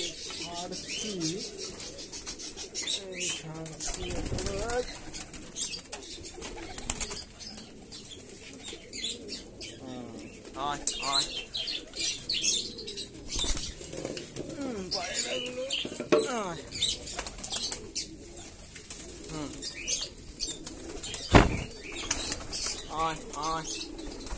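Pigeons coo in soft repeated rolls while wings flap in brief bursts nearby during hot weather, with someone talking intermittently over the birds.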